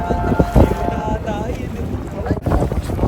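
A boat rides along in a fluvial procession from Hagonoy, Bulacan to Orani, Bataan. An engine hum sits under heavy wind buffeting on the microphone, with faint voices in the background.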